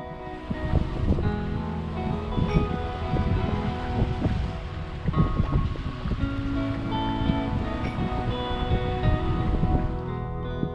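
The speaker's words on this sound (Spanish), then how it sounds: "vamos a tener un poco de oleaje" Sea waves wash and rush continuously around a sailing boat out at sea, mixed with blustery wind noise, steady and fairly loud throughout with no talking.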